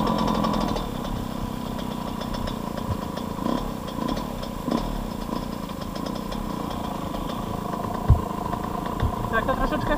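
A Yamaha YZ125 motorcycle engine runs nearby at a rough, uneven idle with rattles and a sharp bump late on, and someone talks over it.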